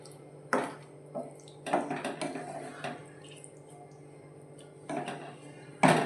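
A spoon scrapes and taps against a pan while soybean gravy masala is stirred in a Maharashtrian home kitchen, a few separate clinks and wet scraping strokes over a low steady hum, close and moderately loud.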